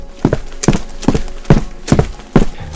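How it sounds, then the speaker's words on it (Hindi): Slow, evenly spaced heavy footsteps on a concrete roof at night, six distinct thuds close and loud with no talking. "जैसे कोई धीरे धीरे आपके कमरे की छत पर चल रहा हो"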